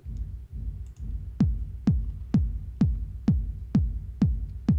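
Sharp clicking transients on a kick drum produced in Ableton Live, about nine evenly spaced hits, each a punchy low thump with a bright click attack, heard alone and fairly loud after a brief low rumble at the start.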